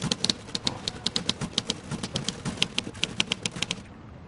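Rapid, irregular clacking of typewriter keys struck one after another, close and fairly loud, with brief pauses between bursts and no talking over it.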